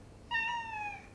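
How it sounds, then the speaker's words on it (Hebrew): A single clear cat meow, fairly close, rising sharply and holding a steady drawn-out tone for nearly a second before trailing off, with no talk over it. "איזה חתולה מצחיקה."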